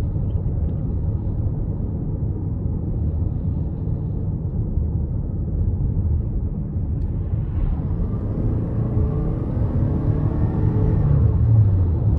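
A 2023 Toyota Crown XLE Hybrid accelerates at about half throttle in sport mode, a steady low road and engine rumble heard from inside the cabin, rising in pitch toward the end.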